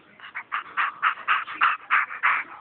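A baby imitates his dog's bark with a run of rhythmic, panting, yippy vocal bursts, about a dozen quick puffs in a steady pulse, close and moderately loud.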